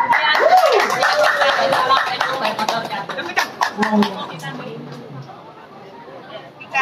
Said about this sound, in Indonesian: Kami tepuk tangan.